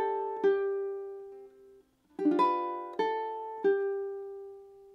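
Ukulele picking a short measure of a melody: a handful of plucked single notes and a small strummed cluster with pauses between them, clear, close and alone.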